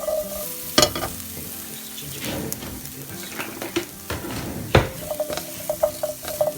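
Ginger and garlic dry-roasting with onions in a pan without oil for a Goan crab xec xec, giving a steady close sizzle and crackle with intermittent stirring scrapes and a couple of sharp utensil knocks against the pan.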